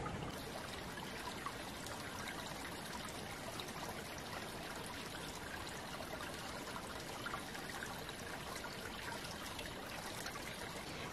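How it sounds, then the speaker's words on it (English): Small stream flowing straight into a river outdoors, a constant soft trickling and babbling wash, even and unbroken, heard alone with no voices. "this little stream that's flowing directly into a river"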